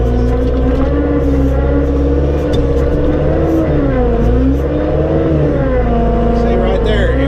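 Compact tractor with a CVT transmission straining as its tires spin, a loud steady engine drone with wavering pitch as the load shifts, heard up close with continuous engine noise throughout.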